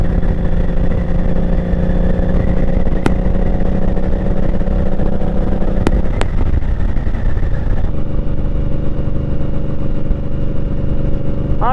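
A motorcycle ridden along Skyline Drive in Shenandoah National Park, its engine droning steadily and close for the whole stretch, with wind rush and a shift in engine tone partway through.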